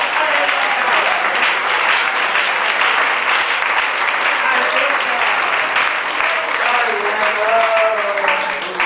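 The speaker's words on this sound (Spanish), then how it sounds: "Dale un fuerte aplauso a Él en esta mañana" A church congregation applauds during a morning service, a dense, steady wash of clapping that carries on unbroken for several seconds, with faint voices mingled in.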